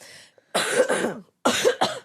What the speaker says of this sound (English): You made me cough.